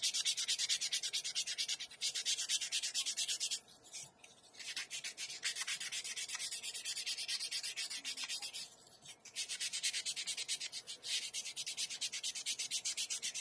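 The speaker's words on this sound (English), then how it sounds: "I can go in here just real lightly sand this off. This spotting putty sands very smoothly." Dried spotting putty being lightly sanded by hand on a quarter-scale Hulk sculpture, a steady close rhythmic rasping that stops briefly twice before resuming.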